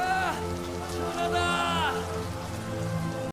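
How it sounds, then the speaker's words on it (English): Steady rainfall patters in a continuous wash of noise, heard together with sustained musical tones that swell and fade over the falling rain. "it suddenly rained for the first time in 3 years"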